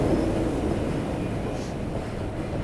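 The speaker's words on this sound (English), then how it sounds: "Oh, look, it's not our train." A train rumbles steadily into a station, a low continuous roar holding at a fairly even level for a few seconds with no speech.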